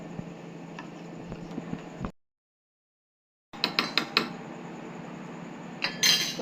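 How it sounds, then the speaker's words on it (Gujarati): A spoon stirring cashew shake powder into milk in a pot, light metallic clinks and ticks against the rim in an uneven rhythm, a silent gap, then quicker clustered taps and scrapes close by. "પાવડરને દૂધમાં મસ્ત મિક્સ કરી લઈશું"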